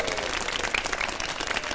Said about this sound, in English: how about a big round of applause for our Australian skateboarding champion, Gary Valentine.